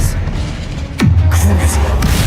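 A spell cast in the video game Hogwarts Legacy: one sudden magical crack with a falling, swooping tone, followed by a low rumbling tail over ongoing game ambience.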